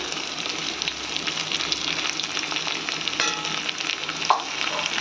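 Chilli, turmeric and cumin powder with salt fry in a pan, a close steady sizzle broken by spatula scrapes and a few sharper knocks against the metal, with no talking.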